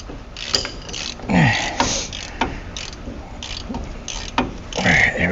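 A ratchet wrench works loose a stuck bolt on a Ram 1500 wheel hub, with bursts of ratcheting clicks, creaks and metallic clanks spread across the clip, close and fairly loud.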